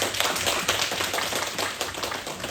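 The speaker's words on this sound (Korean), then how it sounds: "여기까지 인도하시는 하나님께 감사의 박수 한 번 더 드리겠습니다" A church congregation at a year-end thanksgiving service gives a round of applause, a dense burst of many hands clapping together, fairly close and continuous for a couple of seconds.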